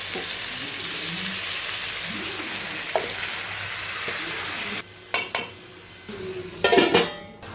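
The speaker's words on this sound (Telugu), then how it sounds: "ఇప్పుడు చికెన్ వేసానండి." Chicken pieces frying in a pan with onions and turmeric, a steady broad sizzle for several seconds, then the hiss cuts off and returns in sharp bursts with clinks of a spoon against the pan.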